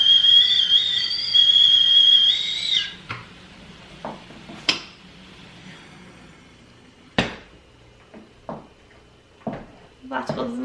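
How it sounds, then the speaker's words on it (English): A Le Creuset tea kettle whistles shrilly and steadily for a few seconds, then cuts off, followed by scattered kitchen clatter and clinks with some background talk. "Anybody who wants to get a Le Creuset tea kettle, I can assure you it whistles."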